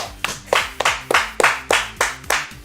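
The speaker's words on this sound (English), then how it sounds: "Ben in the tech booth cheering for this one in the background." One person claps steadily in a tech booth during a live stream, about nine sharp, evenly spaced claps close to the mic with no other voices.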